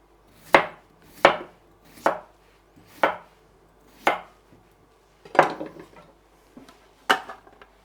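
A knife chops a peeled potato into chunks on a cutting board, giving about seven sharp, evenly spaced thuds, close and clear with short pauses between strokes.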